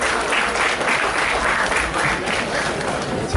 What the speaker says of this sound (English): Young Indians, standing applaud.